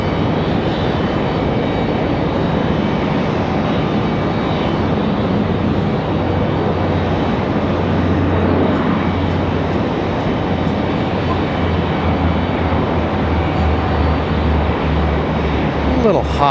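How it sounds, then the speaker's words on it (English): An ATR turboprop lands at Raleigh-Durham International with a brief hop before touching down, its steady propeller and engine drone loud and continuous throughout, with a low tonal hum and wind flutter, and a voice talks over it. "Little hop, skip, and a jump there for the ATR. Still a smooth touchdown."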